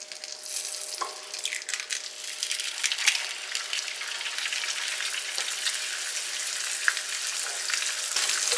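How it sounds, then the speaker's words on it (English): An egg fries in a pan with a steady, fairly quiet crackling sizzle that holds even throughout, dotted with small pops and faint ticks, and no voices. "For the time being, let's get that egg cooked."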